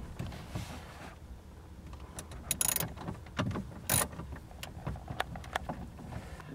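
Ratchet wrench on an extension turning out side trim screws in a 2006-2008 Honda Fit interior: a run of quick, close mechanical clicks with a few louder bursts, no talking.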